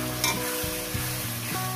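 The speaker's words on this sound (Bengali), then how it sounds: "পেঁয়াজটাকে আমি সুন্দর করে লাল লাল করে ভেজে নেব" Onions fry in a pan with a spice mix added, a continuous sizzle with a low hum underneath and a few short stirring scrapes, close and loud with no talking.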